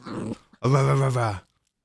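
A four-month-old puppy makes two close, voiced growling-whine sounds, a short one followed by a longer, louder one, then silence.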